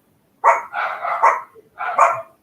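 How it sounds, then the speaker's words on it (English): Indoor pet dogs bark in a quick burst of three or four close, loud barks, then a pause and another pair, set off by a neighbour's dog outside. "Dogs outside doing that, so I'm setting off my dogs in here."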